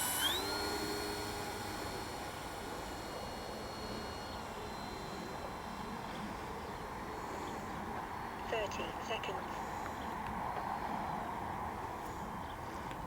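An FMS 1.45 m P-51D Mustang radio-controlled model plane on its maiden flight comes in fast to land, its electric motor giving a thin, steady whine with shifting pitch, moderately distant, while someone talks over it throughout.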